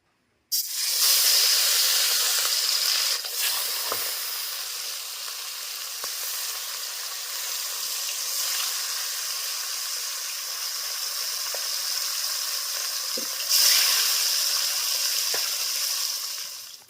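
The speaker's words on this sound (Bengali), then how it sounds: "এখন আমি ভেজে নেব" Katla fish frying in hot oil for a Bengali malai curry, a steady close hiss and sizzle running the whole time, with a sharp spatter burst at the start and another near the end, no voices.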